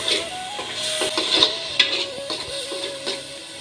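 Spices frying in a home kitchen for a first-time homemade biryani, a steady sizzle under scraping and clinking of a spoon against the pan, close and fairly loud with a few sharper knocks.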